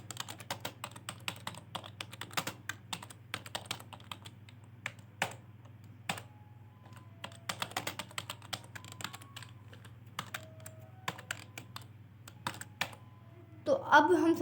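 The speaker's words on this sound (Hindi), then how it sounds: "तो यहाँ पे मैं सिंटेक्स को टाइप कर लूँगा।" Steady clicking of a computer keyboard as C code for a functions file is typed, irregular bursts of keystrokes over a low hum, fairly quiet and close, with no speech over the typing.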